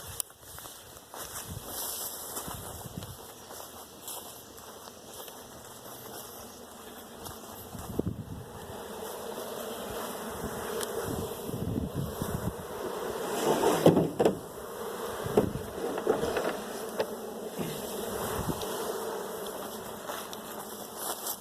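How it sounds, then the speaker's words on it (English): A large swarm of honey bees, around ten pounds of them, buzzes in a dense continuous drone that swells louder midway as the bees are disturbed, with occasional knocks and footsteps nearby and no talk. "Definitely 10 pounds of bees."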